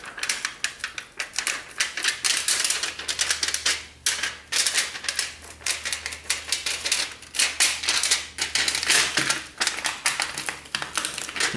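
Aluminium foil folded into a pouch around a steel knife blade for heat treating, a busy run of close crinkling and crumpling taps that continues almost without pause.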